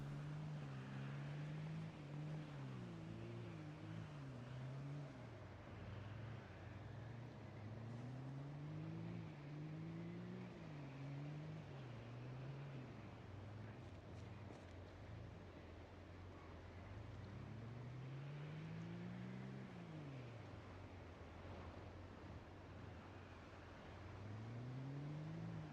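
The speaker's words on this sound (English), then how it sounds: "Car? Come on, car. Don't stall out twice." A car engine in a zombie-apocalypse survival game cranks and revs in repeated rising and falling pulses, fairly quiet and steady throughout with no talking over it.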